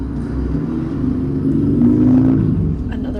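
A motorcycle passes outside, a low engine rumble that swells to a peak about two seconds in and then fades, heard from indoors.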